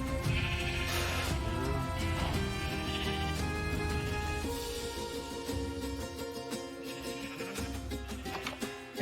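Sheep bleat in a Minecraft game over a steady, dense bed of game music and sound that runs unbroken for the whole stretch, with the animal calls set within it.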